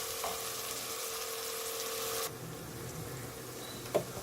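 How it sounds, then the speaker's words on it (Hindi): Onions and ginger garlic paste fry in hot oil for dhaba-style mash daal. A steady soft sizzle runs for about two seconds, then drops to a quieter simmer with a brief clink near the end, and no one speaks. "अब इसमें हम अपना जिंजर गार्लिक का पेस्ट डालेंगे और इसको फ्राई कर लेंगे"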